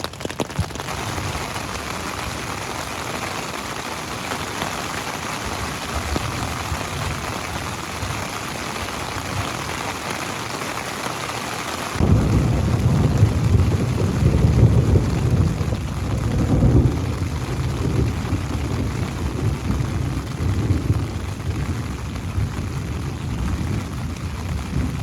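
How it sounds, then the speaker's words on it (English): Rain drums steadily on a tent during a thunderstorm while motorcycle camping in Montana. Halfway through, a deep roll of thunder swells and rumbles under the constant patter, and no one speaks. "Haven't been in the rain in the tent for a while."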